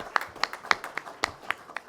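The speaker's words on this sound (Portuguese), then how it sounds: "Uma salva de palmas" An audience at a ceremony honouring the Brazilian Labour Party (PTB) claps, a sparse, steady rhythm of individual hand claps rather than full applause.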